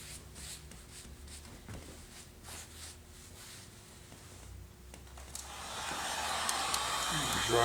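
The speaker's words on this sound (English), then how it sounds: "We're using a heat gun" A faint rustling background gives way to a rising, breathy hiss of a heat gun drying dye on repaired leather, growing louder toward the end.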